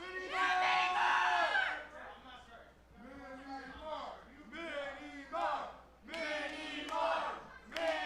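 Wrestling crowd chanting and shouting for Mini Marv at a live rasslin show, rhythmic group yells in swelling bursts that rise and fall, loud and reverberant.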